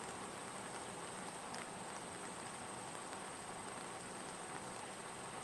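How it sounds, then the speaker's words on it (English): Steady rain falling outdoors beside Highway 13 in Minnesota, a continuous even hiss of drops with no breaks and a single brief tap near the end. "It's raining."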